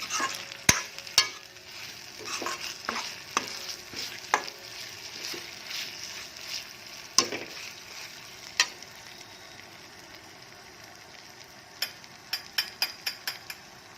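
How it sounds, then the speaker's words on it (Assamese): Peanuts frying in a pan for a chicken dish: sharp scraping stir strokes and clicking utensil hits over a steady soft sizzle, with a quick burst of clinks near the end and no talk. "বাদামৰ কেঁচা গোন্ধটো নাইকিয়া হ'ব লাগিব, এনেকৈ অলপ ফ্ৰাই কৰিব লাগিব,"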